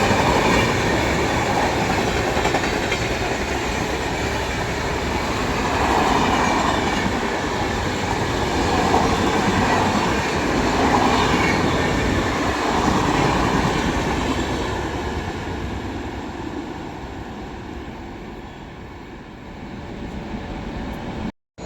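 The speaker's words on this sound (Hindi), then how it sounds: "Samta superfast express" The Samta Superfast Express rolls past Koshikala station in a long continuous rumble of wheels and carriages, with rhythmic clatter and a faint squeal, loud and close before cutting off abruptly.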